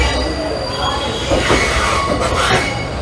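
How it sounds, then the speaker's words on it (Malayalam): A train pulling out of Arakkonam railway station, with wheels grinding and squealing on the rails and the carriage rumbling close by over a few seconds. "അരക്കോണം റെയിൽവേ സ്റ്റേഷനിൽ നമ്മുടെ ട്രെയിൻ എടുത്തു."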